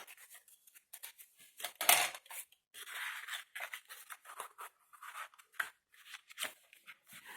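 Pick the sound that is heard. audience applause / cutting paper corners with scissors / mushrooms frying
cutting paper corners with scissors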